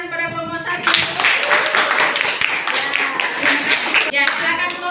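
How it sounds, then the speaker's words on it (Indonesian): A classroom of students applauds a group after their presentation, a burst of brisk, fairly close hand clapping that starts abruptly and stops just as suddenly after a few seconds. "Beri tepuk tangan kepada kelompok 1"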